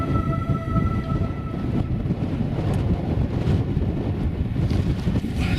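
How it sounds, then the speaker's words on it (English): Strong wind gusts across an exposed mountain ridge on Moel Siabod in Snowdonia, roaring and buffeting the microphone in a continuous rumble with faint fluctuations, loud and close, no voices. "It's a bit windy up here to camp"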